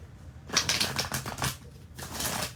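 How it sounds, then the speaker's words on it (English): A deck of tarot reading cards being shuffled, a rapid riffling patter in two bursts close to the microphone, with no talking. "let's give this another shuffle."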